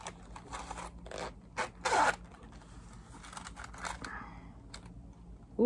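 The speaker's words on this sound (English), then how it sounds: "Got a metal zipper." A metal zipper on a crochet hook pouch rasps open in several short scratchy pulls, close and fairly loud, with light rustling of the pouch in between.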